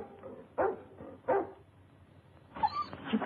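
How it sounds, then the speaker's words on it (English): A dog in a 1942 mystery film gives several short, close barks at uneven intervals, with a whimpering yip near the end over a faint background hiss. "Keep a tight grip on that dog"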